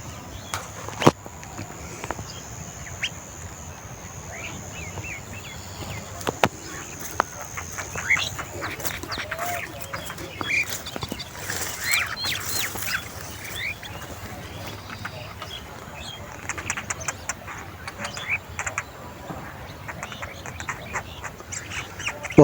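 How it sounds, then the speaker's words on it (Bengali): Birds chatter outdoors in an open setting, with duck-like quacks and scattered chirps repeating irregularly at moderate distance over a faint ambient hum. "পাখির কোলাহল শুনতে পাচ্ছেন।"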